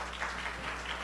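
An audience at a political event applauds a guest on stage, producing a soft, continuous wash of clapping that is fairly distant and low in level.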